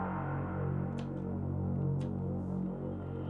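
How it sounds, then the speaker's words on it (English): A bass stab from an electronic track is heard alone as deep, rich low notes pulsing in a steady rhythm at moderate level, with faint high ticks now and then. "So you can hear what the bass stab sounds like."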